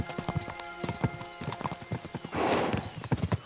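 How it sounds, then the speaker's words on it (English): Horses gallop in Kingdom Come Deliverance 2, hooves clip-clopping in a quick, uneven rhythm of close, sharp strikes, with a brief burst of rushing noise partway through. "We should spur the horses on."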